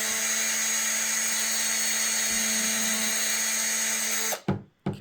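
A power drill with its bit spins steadily against a paper-and-glue arrow nock, a loud continuous whine that holds for several seconds before cutting off abruptly with a brief restart at the end.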